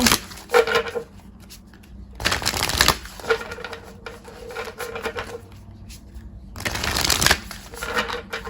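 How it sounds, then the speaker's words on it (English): Oracle cards shuffled by hand during a pick-a-card tarot reading give a dry, papery riffling that swells in two louder bursts, with softer card handling and brief faint voice between them. "So now I'm going to pull some oracle cards for you."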